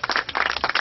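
Brief burst of dense audience applause at an outdoor poetry festival in Laja, many hands clapping in a fast, rippling wash, close and steady.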